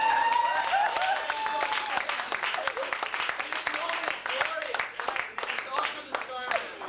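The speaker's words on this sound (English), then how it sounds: "The crowd just totally uproars and laughter" An audience applauds and laughs during a university speech with confetti falling: dense, steady clapping fills the whole stretch, with voices and cheers mixed through it.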